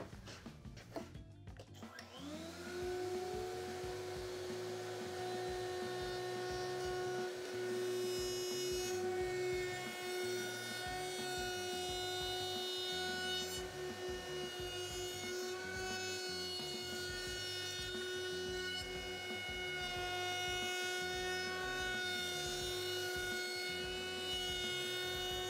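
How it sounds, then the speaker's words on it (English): A router table rounding over the edges of a wooden outdoor table spins up with a rising whine, then holds a sustained, tonal high-pitched scream with a low rumble as the workpiece is fed through; no speech. "it's super important that you keep constant pressure on the workpiece the entire time through the router table"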